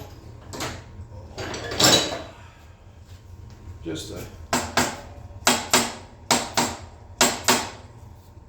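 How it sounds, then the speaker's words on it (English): A no-bounce hammer taps the springer front-end parts of a Moto Iron (TC Bros) install on a 1975 Harley-Davidson FXE, landing about eight sharp, evenly spaced metallic strikes close up after some brief talk and handling noise. "I'm gonna give those a little tippity tap with the old no bounce hammer."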